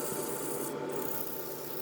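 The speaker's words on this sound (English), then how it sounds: "Sanded from 80 to 400 grit," Steady, soft rubbing and rasping of sandpaper against a wooden bowl on a lathe, a continuous scratchy texture heard up close.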